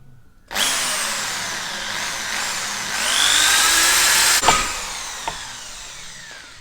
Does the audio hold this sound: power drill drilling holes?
yes